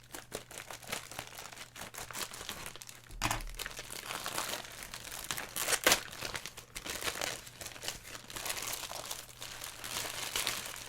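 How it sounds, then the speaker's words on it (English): Continuous crinkling and crackling of a plastic bag being opened up close to unpack a deskmat, with louder crunchy bursts now and then; no talking. "I do apologize for the much rustling."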